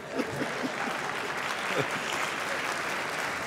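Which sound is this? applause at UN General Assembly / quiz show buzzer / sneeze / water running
applause at UN General Assembly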